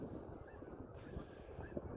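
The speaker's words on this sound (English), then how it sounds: "It's probably getting all windy now." Low, steady wind rumbles and buffets against the microphone, a quiet continuous outdoor gust with no one speaking.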